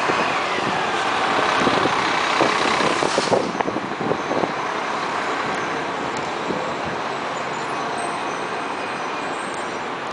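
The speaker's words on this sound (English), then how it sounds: "this is a tour bus." A large tour bus idling on a city street, a continuous broad rumbling drone with a brief louder burst early on, mixed with surrounding traffic noise and no talking.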